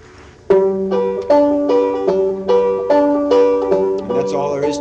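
Acoustic guitar picked in an old-time style at a 1994 workshop in Augusta: a bass note followed by the first two strings, sounded in a steady repeating pattern, close and clear, with no talking.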